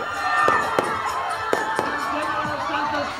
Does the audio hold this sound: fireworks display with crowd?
yes